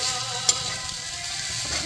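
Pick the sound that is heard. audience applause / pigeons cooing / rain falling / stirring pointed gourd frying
stirring pointed gourd frying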